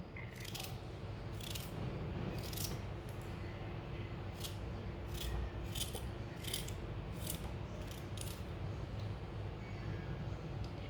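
A knife cuts raw green mango into small pieces in a home kitchen, giving about a dozen crisp, close chopping strokes at an uneven pace over steady low background noise.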